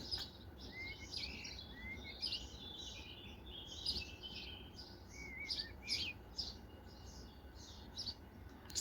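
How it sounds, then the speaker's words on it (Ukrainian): Small birds chirp and twitter in quick, bright phrases at sunrise in the Netherlands over a low outdoor background rumble, several calls overlapping at a moderate distance. "Пташки співають."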